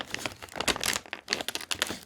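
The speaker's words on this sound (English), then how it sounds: "use a pair of scissors to cut open" Close crinkling of Japanese snack packaging with sharp scissor snips and rustles as it is cut open, in short irregular bursts.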